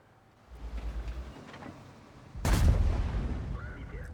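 Tank cannon fire in a tank battle video game, set among distant rumbling battle noise, with one deep, booming shot and its rolling echo near the middle.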